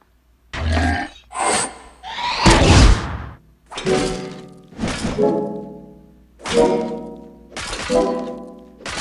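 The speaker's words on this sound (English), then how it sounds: "I'm going to use an axe attack" An axe attack lands in a video game battle against a Titan, heard as a rapid series of about eight heavy thunking, crunching impacts mixed with grunts, evenly spaced and loud.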